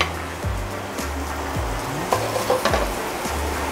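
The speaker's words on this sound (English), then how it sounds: "Just wanna do a little saute here." Snapper sautés in a hot pan in a restaurant kitchen, giving a continuous loud sizzle with a few sharp scraping or tossing noises over a low background hum.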